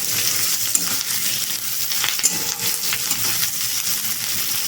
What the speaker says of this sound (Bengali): এখানে ক্যাপসিকাম পেঁয়াজ ভাজতেও দিয়ে দিয়েছি।